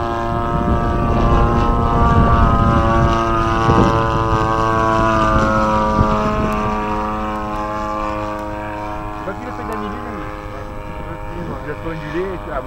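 A Corsair F4U-7 propeller plane taking off on its first flight, its radial engine roaring loud and steady before slowly fading with distance, as people talk excitedly over it.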